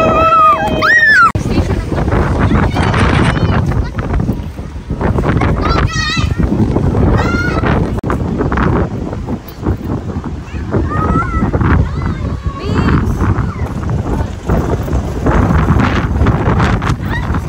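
Strong wind at the seaside just after a storm, loud buffeting rumble across the microphone with surf beneath, under excited voices of a family talking and shouting.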